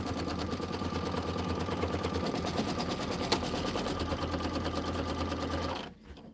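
An embroidery sewing machine stitches a tack-down line for a Kimberbell Let It Snow pillow snowman block, a steady, loud, fast mechanical hum and rapid needle clatter running continuously until it stops abruptly near the end.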